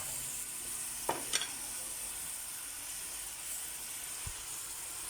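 Biya goby fish dropped into a pan for ginataang biya, giving a faint, steady sizzle with a couple of brief clatters near the start and no talk.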